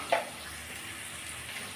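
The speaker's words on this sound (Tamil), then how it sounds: "ஒரு ரெண்டு நிமிஷம் காய் வந்து நல்லா வதக்கி விட்டுடலாம் அந்த எண்ணெயிலேயே" Steady broadband sizzle of vegetables with turmeric powder sautéing in hot oil, with a brief louder stir or clatter near the start, then a constant hiss.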